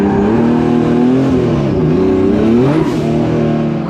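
A 10,000 RPM four-rotor Toyota Supra engine revs hard and continuously on a street lap, with a loud, buzzing, rising and falling rotary howl running throughout.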